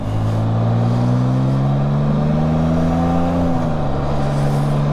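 Can-Am Spyder three-wheel motorcycle engine fitted with an aftermarket exhaust, idling and revving with a deep, throaty drone that rises and dips, loud and close, with no talking.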